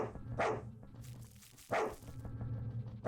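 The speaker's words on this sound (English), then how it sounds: "Who's barking?" Inside a dungeon in the video game Fear and Hunger, a dog gives two sharp barks about a second apart over a low ambient hum.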